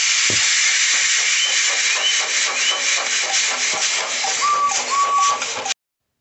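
Model steam engine in HO/OO scale puffing steadily, a continuous loud hissing chuff with a rapid rhythmic beat and brief whistle-like tones, cutting off abruptly at the end.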